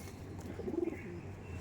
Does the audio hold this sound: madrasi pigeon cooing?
yes